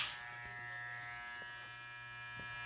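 Andis GTX hair trimmers running after a rattle fix, a steady, close electric buzz with a high whine and faint periodic ticks, no talking.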